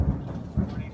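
Deep low rumble of thunder from a lightning strike during a storm, a brief loud boom with a second swell, no voices.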